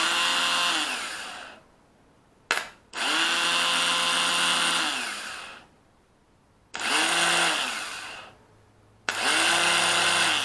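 The starter motor of a Yamaha Grizzly 600 ATV, removed and held by hand, spins up with a loud, high electric whine in four bursts of one to three seconds each, separated by short pauses.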